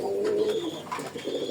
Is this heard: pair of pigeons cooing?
yes